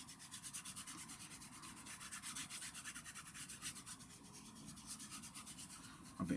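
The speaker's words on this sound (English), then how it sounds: "I tend to just rub it in with my fingers as well while it's drying." Fingers rubbing weathering into the wing of a 1/32 Hasegawa Fw 190 D-9 model aircraft make a faint, steady, rhythmic scrubbing, soft and close with no talking.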